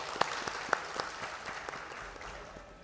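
Applause from the audience at an Urdu conference in Karachi as a hockey figure is introduced, with a few sharp, distinct claps over a softer spread of clapping that gradually fades.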